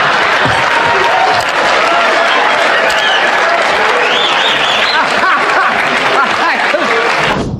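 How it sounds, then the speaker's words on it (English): A television studio audience roars for Rodney Dangerfield with dense, sustained applause and cheering that stays loud throughout, with scattered laughter and shouts rising within it. "applause crashes in, cheers rise from every corner"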